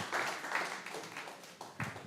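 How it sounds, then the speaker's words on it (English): A small indoor audience at a fintech and Web3 meetup claps briefly, giving a short, thin round of applause with scattered uneven hand claps. "can everyone give a round of applause first right now?"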